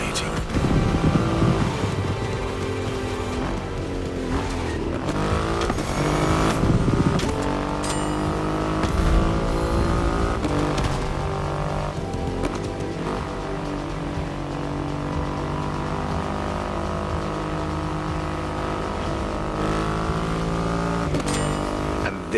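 Triumph Rocket 3 motorcycle with a 2.5-litre engine in The Crew Motorfest video game, its engine droning and revving up and down continuously and loudly, with pitch sweeps from shifting gears under background music.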